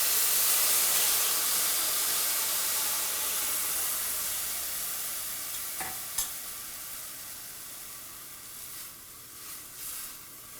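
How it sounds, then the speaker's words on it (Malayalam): Strained tamarind water poured into a pan of fried ginger for inji curry sets off a loud broad sizzle that slowly fades as it settles, with a few faint clicks near the end. "ഇതിലോട്ടിനി നമ്മൾ ആദ്യം പിഴിഞ്ഞ് അരിച്ചു വച്ചിരിക്കുന്ന പുളിവെള്ളം ഒഴിച്ചു കൊടുക്കുക"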